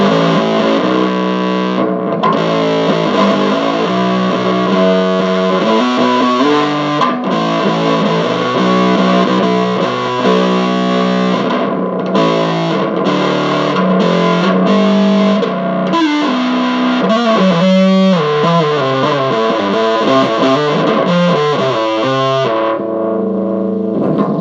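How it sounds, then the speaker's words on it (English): Bass guitar run through the fuzz distortion of a Boss ME-70 multi-effects unit, a very dirty, saturated tone playing a continuous riff with short gaps, loud and up close for about twenty-four seconds. "fuzz, which you all know what a fuzz distortion sounds like"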